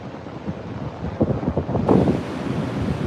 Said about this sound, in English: I hope you all can hear me over the wind